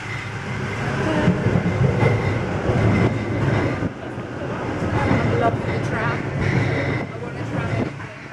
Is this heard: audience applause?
no